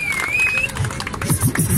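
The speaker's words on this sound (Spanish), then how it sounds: "¡Aplauso, muchachos! ¡Aplauso para esta batalla!" Crowd at a regional freestyle rap battle in Ibagué, Colombia breaks into applause and cheering, loud broadband clapping swelling after a brief whistle-like tone, with crowd noise throughout.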